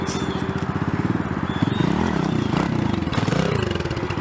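A dirt bike engine idles close by with a steady, loping rhythmic putter and light mechanical clatter, a small throttle bump partway through, no talking.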